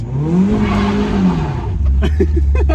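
A Mazda Miata drift car does a burnout, its engine holding a loud, steady drone at high revs while the tires squeal, followed by a louder, grinding spin near the end.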